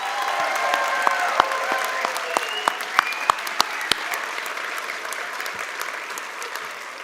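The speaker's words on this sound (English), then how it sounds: "please join me in acknowledging their achievements with a big round of applause" Applause from an audience at an animation program premiere honouring graduates, a spread of hands clapping at moderate volume, with a few sharper individual claps standing out before the sound thins toward the end.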